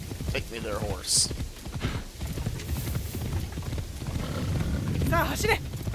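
Horse hooves clip-clop rhythmically at a steady gallop in a video game, blended with a game soundtrack. A voice talks over the sound.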